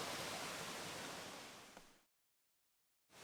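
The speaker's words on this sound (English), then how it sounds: "camped right beside the creek" A creek rushes right beside a backpacking campsite on the Bartram Trail in North Carolina. The flow is a steady, close, broadband roar with no voices, fading slightly before it cuts to silence and then resumes.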